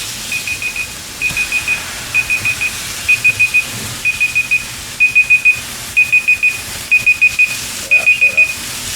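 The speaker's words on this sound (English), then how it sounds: "Oh, there goes my timer." A kitchen timer beeps in repeated short bursts of four quick tones with brief pauses between them, loud and steady, while burgers cook for a homemade McDouble.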